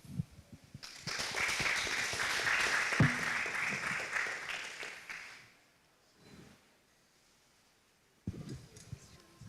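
Audience applause after a talk on a pattern language for planning and design, a dense sustained burst of clapping that fades out after about five seconds, then a pause before a few scattered claps.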